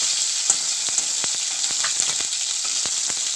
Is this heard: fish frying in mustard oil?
yes